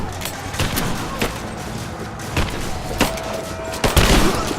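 Shotgun blasts in a video game firefight, several sharp booming shots spaced irregularly over a busy layer of game noise, the loudest bursts landing near the end.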